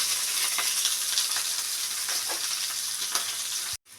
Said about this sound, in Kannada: ಈರುಳ್ಳಿ ಕರ್ಬೇವು ಸೊಪ್ಪು ಹಾಕ್ತಾಯಿದ್ದೀನಿ. ಅದು ಸ್ವಲ್ಪ ಫ್ರೈ ಆಗಲಿ